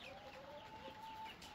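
A flock of hens in a farmyard cluck and murmur softly, a steady, quiet background of overlapping clucks with no speech.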